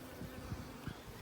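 Carniolan honeybees buzz close by in a short, steady hum with a few brief louder swells as individual bees pass.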